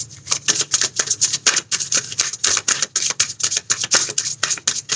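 Tarot cards are shuffled by hand in quick, crisp bursts, a rapid run of close riffling and flicking taps repeating over several seconds with no talking.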